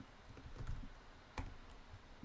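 Quiet keystrokes on a computer keyboard as a PowerShell command is typed, a few soft clicks with one sharper tap, close by and faint.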